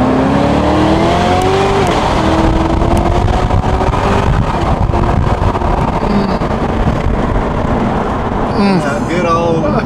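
A BMW E92 M3 with a V8 accelerates hard from inside the cabin, its engine roar loud and constant with a rising mechanical whine and wind noise through the gears.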